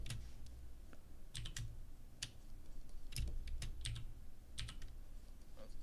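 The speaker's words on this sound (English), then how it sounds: "I guess that's also one thing that's great about mechanical keyboards" Typing on a mechanical computer keyboard, heard as close, crisp key clicks arriving in short uneven bursts over a steady background hiss, with no talking.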